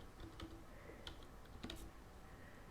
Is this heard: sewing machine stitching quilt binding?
no